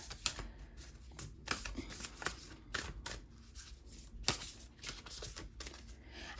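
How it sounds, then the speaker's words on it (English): Nature's Whispers oracle cards shuffled close by in a quiet room, producing a steady series of soft papery flicks and sharper slaps, with no voices. "And go ahead and shuffle."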